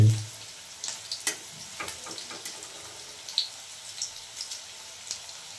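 Pakoras frying in hot oil at an evening snack party give off a faint, steady crackle and sizzle with scattered soft pops throughout, with no voices.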